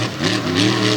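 Race truck engine revving hard at a Renegade MTT mud truck event in Greensburg, Pennsylvania, a loud, continuous high-pitched roar with rising and falling pitch, close by and dominating.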